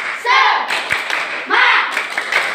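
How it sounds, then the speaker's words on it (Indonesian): An elementary school class does a rhythmic spirit clap in a classroom, with bursts of clapping mixed with children's voices chanting along in two loud phrases. "Sekali lagi. Tepuk semangat."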